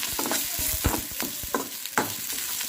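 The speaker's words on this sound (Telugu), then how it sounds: "ఆనియన్స్ అయినా పచ్చిమిర్చి వేసుకున్నాం అండి ఈ రెండు కూడా వేసుకొని బాగా ఫ్రై చేసి వస్తున్నాం" Onions and green chillies fry in a pan with a steady sizzle, broken by several scraping stirs of a spoon against the pan, close and fairly loud, with no talking.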